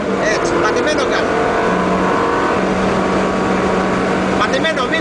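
A Ferrari 360 Modena engine roars under full throttle, a loud, steady drone heard from inside the car while someone talks over it.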